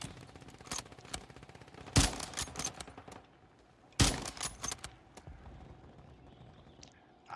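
Video game gunfire: bursts of rapid shots with two sharp loud volleys and scattered quieter pops between them, heard alone without talk.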